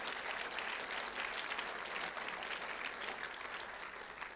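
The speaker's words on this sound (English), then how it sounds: "Can we please put a big round of applause for Hannah and Beth?" Applause from a church congregation at a Raging Fire 2024 gathering, many hands clapping in a dense steady roar that holds for several seconds and thins slightly toward the end, with no words over it.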